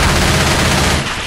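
Dense, rapid automatic gunfire in the zombie shooter game Left 4 Dead 2, a loud continuous burst of overlapping shots that eases slightly at the end, with no talk over it.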